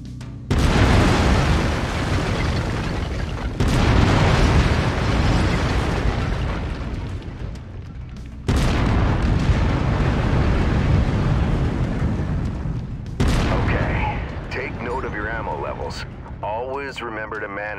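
A mech autocannon in MechWarrior 5 fires heavy, booming shots, each opening a long, loud, rumbling roar, with several blasts spaced seconds apart and a voice talking over them.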